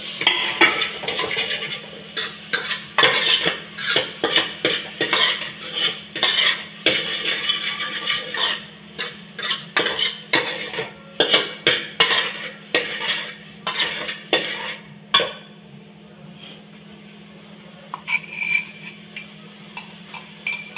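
Tomatoes go into ginger-garlic paste in a pan while soya chunks are cooked at home, giving repeated clinking spoon-and-pan strikes and scraping stirs over a steady low hum, with a quieter stretch near the end.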